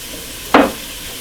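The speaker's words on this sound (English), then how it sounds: "we're just going to drop these beans in here because those onions are ready" Beans dropped into a pan of sizzling onions for a meatless burrito bowl make a single sudden hiss and splash that fades over a fraction of a second.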